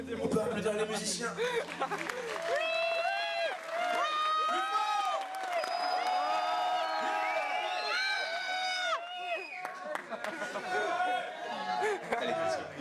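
A concert crowd cheers and whoops for the musicians at a soul and blues themed event, loud excited voices and shouting filling the whole stretch with applause beneath.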